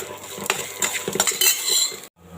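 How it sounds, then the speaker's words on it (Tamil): Onion and green chili stir-fried in a pan, with a spatula scraping and clinking against the metal in a busy close rhythm over a soft sizzle before it cuts off abruptly. "இப்போ இது நல்லா வதக்கிக்கலாங்க."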